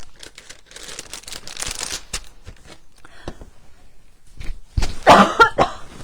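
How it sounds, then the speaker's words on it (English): Dry-throat coughing from a crafter chatting live while making gift packaging for handmade cards. Soft crinkling and shuffling noises come first, then a short, loud burst of coughs near the end. "Always seem to start coughing when I've been talking to you."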